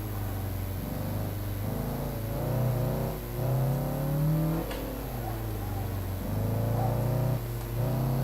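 A Honda Civic EG engine in the Assetto Corsa driving game revs up and down repeatedly, its pitch rising and falling in steady sweeps with a constant droning tone, loud and close.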